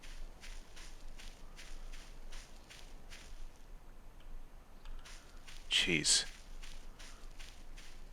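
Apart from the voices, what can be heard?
footsteps in the video game Voices of the Void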